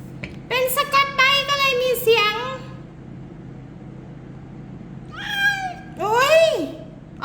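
A Scottish Fold cat meowing up close, a run of several drawn-out meows, then a pause with faint background hum before two more meows near the end.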